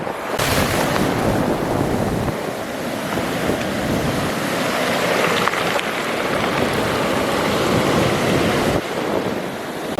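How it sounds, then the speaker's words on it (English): Surf washing steadily over stones on New Zealand's West Coast, a continuous broadband wash with rattling, gravelly texture as water drags pebbles, loud and close without pause. "the sea comes in to the stones, because it's making like a really cool noise as it washes them around"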